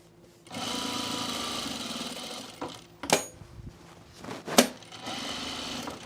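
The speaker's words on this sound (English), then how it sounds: "I'm gonna stitch it through that top stitching there." A sewing machine runs steady top stitching through lightweight twill pants fabric, a continuous whirring hum broken by short pauses and a couple of sharp clicks or thumps.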